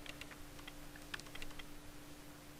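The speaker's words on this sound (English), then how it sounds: "Because he's, like, all too into his little typing tune." Keyboard typing from a character in the video game Parasite Eve, a quick run of light, irregular key clicks over a steady low electronic hum, with no talking.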